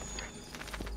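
A few quick horse hoofbeats from the video game Assassin's Creed 2 clop close by in a brief burst, faint against a soft background hum.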